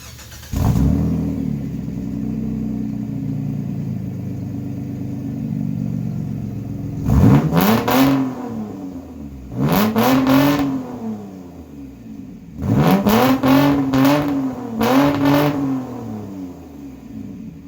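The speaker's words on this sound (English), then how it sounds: "I'll make a video of the startup and let you hear it, and I'll rev it up a couple times" Straight-piped Mitsubishi Eclipse 3.0 V6 idling with a steady low rumble, then revved loudly several times in short bursts, each blip rising and falling back to idle.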